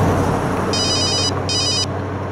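A telephone rings in two loud, buzzy bursts with a short gap between them, over a steady low room hum.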